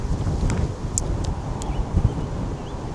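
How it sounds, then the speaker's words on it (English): Wind blowing outdoors in Old Windsor, Australia, a steady low rumble of gusts buffeting the microphone throughout, with faint rustling and small clicks on top and no talking. "It's quite windy."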